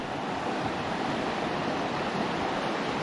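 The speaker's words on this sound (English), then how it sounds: "I believe this is Bright Angel Creek" Bright Angel Creek in the Grand Canyon, near Phantom Ranch, rushes steadily with a dense, even hiss of flowing water, loud and continuous with no voices over it.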